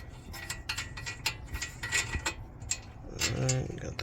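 Quick ratchet clicks loosen a 19 mm nut during ball joint and control arm work on a 2010 Hyundai Genesis sedan, a rapid series of light metallic ticks up close with some faint background noise.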